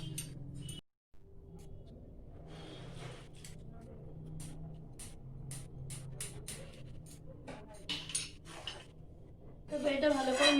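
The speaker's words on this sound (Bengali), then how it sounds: "তো এটা ভালো করে মিশিয়ে দিলেই আমার ডালটা রেডি" Lemon juice being mixed into sambar dal in a pot: quiet metallic clinks and scrapes of a spoon against the pot, growing busier toward the end, under a person talking.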